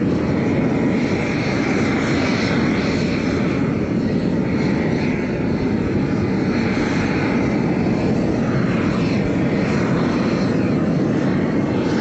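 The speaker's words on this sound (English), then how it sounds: "I like to light the lighter first and then turn on the propane." A propane weed torch burns on a gravel driveway, a loud constant roaring rush of flame and gas lasting throughout, with wind buffeting mixed in.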